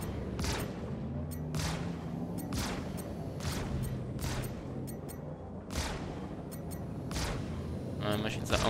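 Turret fire strikes the shields of an Anvil F7C Hornet Wildfire in Star Citizen, sharp impacts repeating roughly every second over a low ship hum, with talking underneath.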